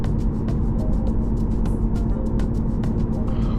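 Interior of a car driving on a road at moderate speed, a steady low rumble of engine and tires with a string of short ticking clicks over it.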